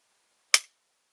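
One sharp, short click from a Glock pistol dry-fired onto a snap cap after a 3.5 lb trigger connector install, crisp and close in otherwise silent air.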